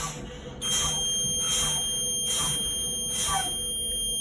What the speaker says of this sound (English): both of my lights are working and the buzzer is sounding